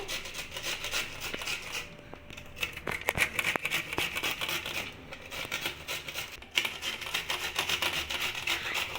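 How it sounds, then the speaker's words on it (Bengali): Cauliflower florets rubbed against a metal grater make a continuous close, dry rasping scrape, broken by a few brief pauses and light knocks, with no voices. "এবার আমি ফুলকপিগুলোকে একটা কেটারের সাহায্যে গ্রেট করে নেবো"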